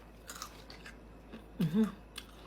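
Someone bites and chews crunchy dried mango close to the mic, producing a few quick crisp crunches that peak in one firmer bite before settling into softer chewing.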